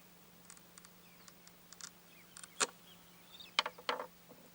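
Short scratchy scoring strokes of a glass cutter across glass for a wing piece, a series of faint crisp scrapes with a few sharper clicks near the end, close and quiet with no talking.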